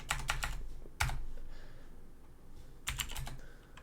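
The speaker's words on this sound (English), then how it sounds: "We're gonna have to actually type this" Bursts of quick keystrokes on a computer keyboard, typed in short clusters with pauses between them, close and fairly loud, with no voice.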